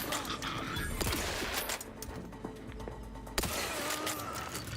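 Gunfire in the video game The Outer Worlds 2, a dense burst of rapid shots and impacts with a few sharp cracks, followed by quieter gaps and another loud shot.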